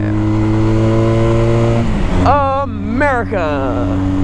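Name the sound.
Johnny Pag motorcycle engine revving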